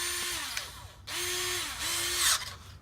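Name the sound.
drilling plastic hopper with 3/16 drill bit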